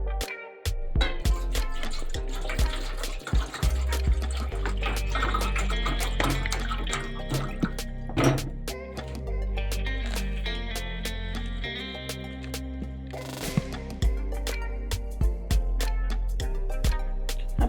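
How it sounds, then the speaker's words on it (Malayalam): Baby prawns being washed in a bowl of water: close splashing, sloshing and dripping with irregular clatters and squeezing as the prawns are rubbed and rinsed, no talk. "എങ്കിലും നമ്മളൊരു 2-3 വെള്ളം നല്ല രീതിയിലൊന്ന് വാഷ് ചെയ്തെടുക്കാം."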